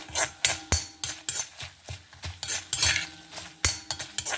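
A metal spoon stirring chana dal as it roasts in a pan, producing irregular sharp scraping clicks and clatters, close and without talk.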